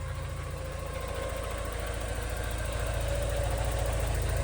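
Porsche 944 engine idling steadily just after its first start following an injector repair, a close, even, rumbling idle with a regular low pulse that holds at constant loudness throughout.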